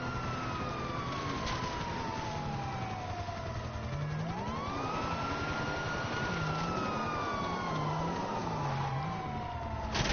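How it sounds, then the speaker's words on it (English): Police sirens wail in a video game, a long descending tone sweeping into a rising, wavering yelp, steady and fairly loud across the whole stretch with no talking over it. "Do you hear cop sirens in the background?"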